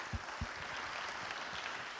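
An audience at a talk applauds, a faint distant patter of clapping spread evenly through the moment with a couple of slightly louder low thumps near the start.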